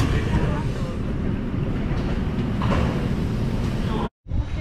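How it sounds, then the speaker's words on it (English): Rumble of a Berlin subway train riding toward Unter den Linden on a packed Sunday morning, a steady loud low roar with rattling throughout, broken by a brief dropout near the end. "on the subway now, on the way to Unter den Linden"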